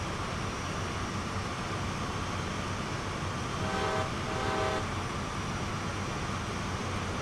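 Two CSX AC4400CW diesel locomotives in Train Sim World labor to haul an overly heavy autorack train, a steady low engine rumble with a short horn blast midway.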